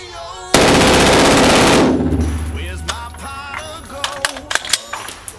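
An AR-15 rifle fed from a Pro Mag magazine fires a rapid, loud string of shots for about a second, then echoes fade into scattered clicks and handling clatter.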